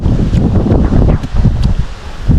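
Strong wind buffets the microphone in a continuous loud rumble, with gusts rising and falling and faint rustling underneath.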